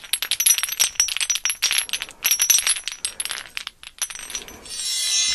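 Glass bottles filled with different colors of water, hung as a wind chime, clink and jangle together in rapid bright bursts of overlapping tinkling strikes, close and loud, settling into a softer ringing shimmer at the end.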